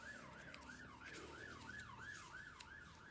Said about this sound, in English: so we very, very often hear sirens. But they're quite noisy. Must be quite close.